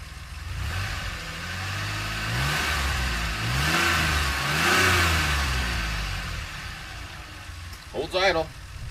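A DeLorean engine runs steadily with low mid-pitched rumble, swelling into a few revs near the middle before settling back toward idle; a voice speaks briefly near the end.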